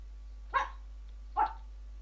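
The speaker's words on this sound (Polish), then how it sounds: "Jeszcze się pies odzywa w pioruny." A dog barks at thunder during a storm: two separate, fairly distant barks about a second apart, with quiet between them and no talking.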